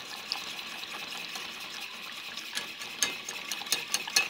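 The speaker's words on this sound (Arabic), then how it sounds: "دابا غادي نزيد لا كريم فريش، غنكبها حتى هي وانا كنحرك" Fresh cream is poured into a pot of thickened starch mixture while it is being stirred for a caramel mirror glaze, a soft liquid swishing that grows into louder sloshing and clinks toward the end, no speech.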